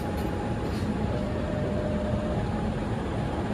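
A continuous low roar of running wheels and carriage noise, heard from inside the KA Malabar passenger train, holds steady and loud with no talking.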